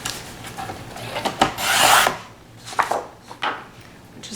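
Scissors cut through a 4-inch piece of brown paper for a scrapbook page spread, giving a few close, dry rasping snips with one longer cut in the middle.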